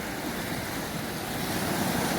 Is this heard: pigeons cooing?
no